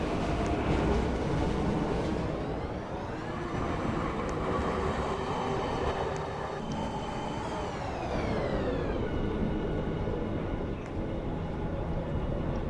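Steady loud rumble of a moving train in the Roblox game Livetopia, with rising and falling mechanical whine and faint rail noise, continuous throughout with no voices.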